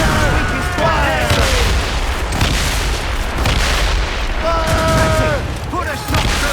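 Ship cannons firing in the naval combat of Assassin's Creed Rogue, heavy booming broadside blasts rolling continuously through the scene, mixed with shouted crew voices and whistling tones.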